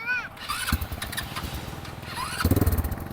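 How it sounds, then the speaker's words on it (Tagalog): A rented ATV on a nature trip in Zambales cranks over, and its engine sputters into a rough, rhythmic putter close by, while voices talk over it. "Pag i-start po natin sir, pipindutin lang po natin dito"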